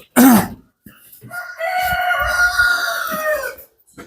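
An Andijan black rooster lets out one long, loud crow close by, preceded by a sharp squawk and a few soft clucks.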